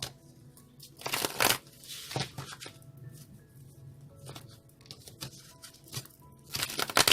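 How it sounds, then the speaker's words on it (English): Tarot cards are shuffled close by in several quick riffling bursts, with softer sliding and tapping between shuffles. "2 more shuffles."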